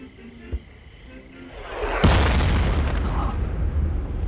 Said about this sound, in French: Ça y est, ils recommencent avec leurs obus, tout le monde à son poste!